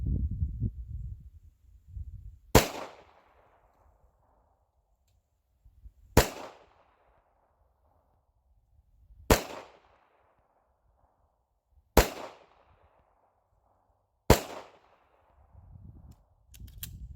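Five sharp, loud pistol shots fired with Montana Gold hollow point ammunition, spaced about three seconds apart with quiet gaps between each crack.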